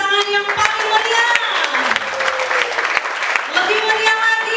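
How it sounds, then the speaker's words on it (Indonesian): A church congregation at a joint Christmas service for a Papuan orphanage claps enthusiastically, the lively applause running alongside sustained musical tones from the worship band. "boleh berikan tepuk tangan yang paling meriah"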